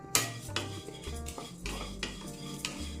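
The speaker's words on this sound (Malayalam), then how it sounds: "ഇനിയും ഇതേ പാനിലേക്ക് തന്നെ ഞാൻ മുക്കാൽ കപ്പ് അവിലിട്ട് കൊടുക്കുന്നുണ്ട്" Three-quarters of a cup of beaten rice flakes (poha) tossed and stirred in the same hot pan on the stove, with close, rhythmic metallic scraping and clinking of a spoon against the pan.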